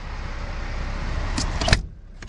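A power window in the cab of an International ProStar Eagle truck opens with a steady electric motor whir, ending in a brief louder clunk as it stops, then quiet.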